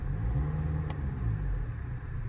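A 2015 Mercedes CLA200 diesel engine revs up toward its soft limiter at just over two thousand rpm, a smooth, quiet, low rumble heard close with a brief click partway through.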